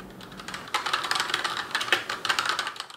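Typing on a Cooler Master MasterKeys Lite L RGB keyboard: quick, close runs of crisp keystrokes in uneven bursts, alone with no talk.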